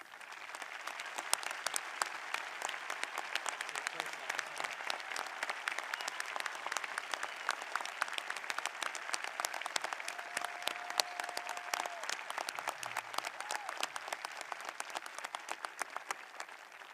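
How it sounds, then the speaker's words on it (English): A graduation audience at a 2021 high school commencement applauds veterans, with steady, sustained clapping from a large crowd heard at a distance throughout, unbroken and fairly even in loudness. "I ask everyone here to give them a round of applause as well."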